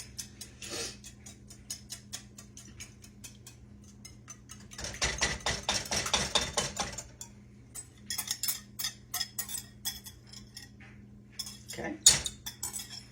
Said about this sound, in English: take your whisk and or a fork or something, kind of break all the yolks up a little bit before you stir it in